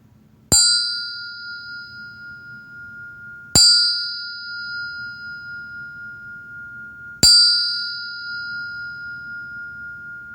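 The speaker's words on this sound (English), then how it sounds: "So with that, I'll sound the bell." Meditation bell struck three times at even intervals, each a clear bright ring that decays slowly, with quiet room hush between strikes.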